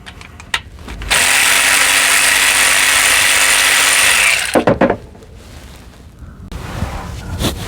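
A power tool spins out lug or cover nuts on a 2020 Ram 1500 Gen 3 EcoDiesel axle, one loud steady whirring burst lasting about three seconds, then short ratcheting clicks and quieter shop noise.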